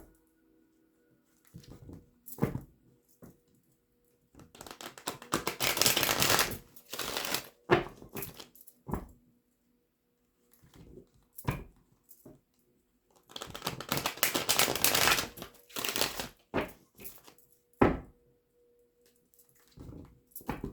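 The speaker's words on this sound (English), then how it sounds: "Let me get you some good shuffles in," Tarot cards from a money-themed deck shuffled by hand in two long bursts of dense riffling, with short taps and card handling between them, close and fairly loud, no talking.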